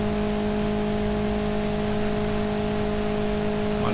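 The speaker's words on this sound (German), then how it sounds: "Mal im Stand, schön Gas geben" A stationary car engine in BeamNG.drive held at high revs with a worn-out clutch, a loud, steady droning whir with constant tone that neither rises nor falls, no talking.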